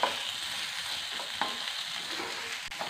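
Onions sautéing in oil for Chettinad poori masala give a close, steady crackling sizzle, with faint stirring scrapes now and then.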